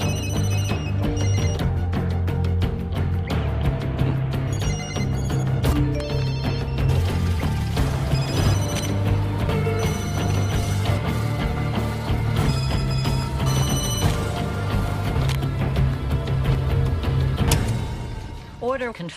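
Several telephones ring in rapid, overlapping bursts, with bells and electronic ringtones sounding together continuously as contract notices for assassins reach phones across America, loud and busy throughout.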